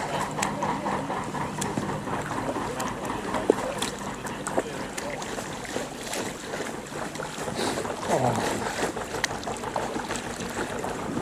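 A narrowboat throttled back and passing slowly on the Grantham Canal, heard from an inflatable kayak as a low steady engine rumble with water lapping and light wind noise, gradually fading late on.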